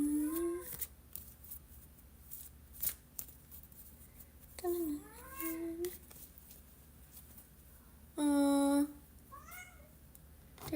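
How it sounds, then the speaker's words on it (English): A house cat meows several times, clear and fairly close, with rising and falling cries spaced apart and one longer, louder yowl near the end, amid light rustling. "There's a cat in here that wants to leave."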